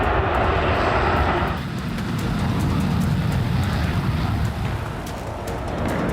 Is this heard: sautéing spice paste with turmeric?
no